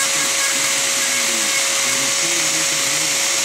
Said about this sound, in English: just sand on this a little bit to get some of the nubs down on it.